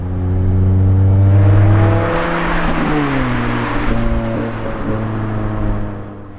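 A Lotus Exige S sports car launching hard from a standstill in a 0 to 60 run on a winter day, the engine note climbing loudly through the revs, then dipping at a gear change and climbing again before easing off.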